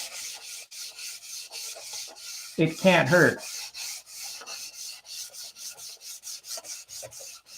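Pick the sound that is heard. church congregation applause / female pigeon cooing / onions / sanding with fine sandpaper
sanding with fine sandpaper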